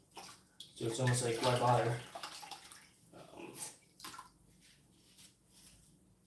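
A grout sponge is dunked and sloshed in a rinse bin of milky water during shower tiling, with a short burst of splashing and wringing and a few softer drips, and someone talking.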